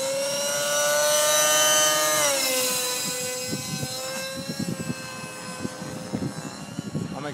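An RC helicopter fitted with EDGE 603 flybarless blades flies nearby, its high whining rotor and motor tone rising then dropping in pitch, with gusty buffeting and a faint voice underneath.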